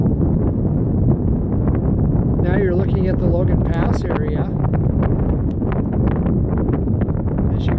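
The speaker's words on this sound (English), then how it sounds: "As you can hear, it gets a little windy up here." Strong wind blows on the summit of Swiftcurrent Mountain in Glacier Park, buffeting the microphone with a constant rough roar beneath a voice describing the view.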